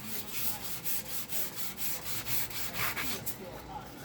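Steady back-and-forth sanding strokes rasp across a J Bass guitar body being prepped for dye, a rhythmic series of close, gritty rubs repeating about every half second.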